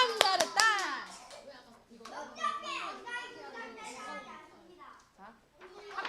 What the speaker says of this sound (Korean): 참 잘했다 박수로 참 잘했다